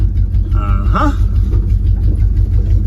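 The engine of a 1970 Jeep Wagoneer in low range during offroading gives a loud, steady low rumble throughout, with a voice speaking briefly over it.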